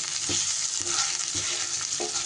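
Roasted peanuts stirred in a hot frying pan for an egg curry, with a steady sizzle throughout and soft, regular scraping strokes roughly every half second.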